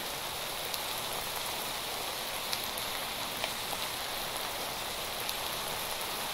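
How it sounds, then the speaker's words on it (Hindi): Steady rain falls in the Minecraft video game, a constant hiss of drops with a few faint ticks scattered through it and no talking. "इतनी बरसात हो रही है ना"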